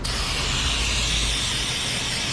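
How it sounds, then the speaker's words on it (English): Brake cleaner sprayed from an aerosol can to wash old motor oil off a Honda Accord's underside during an oil change, a steady, close hiss running unbroken from start to finish with no talk. "get yourself a can of brake clean and come back in here. Spray off all that old motor oil"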